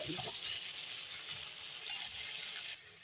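Potatoes frying in a pan give a soft, steady sizzle at low volume, with a faint clink partway through before the hiss drops off near the end.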